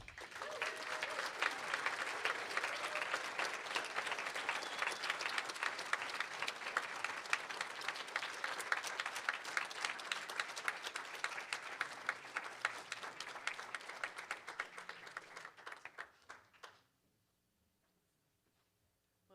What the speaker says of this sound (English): Please join me in one more enormous round of applause for Tomashi Jackson.